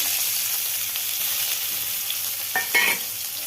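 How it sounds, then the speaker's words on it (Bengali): Onion, bay leaf and dried chilli fry steadily in hot oil in a pan, giving a continuous sizzle with a brief stirring scrape near the end. Nobody speaks. "এটা একটু হালকা ভাজা ভাজা হোক"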